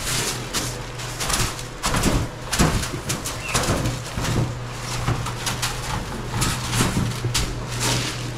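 Pigeons flutter and flap their wings with soft cooing over a steady low hum, close by and fairly loud, while people talk faintly nearby.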